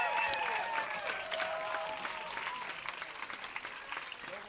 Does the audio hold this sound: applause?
yes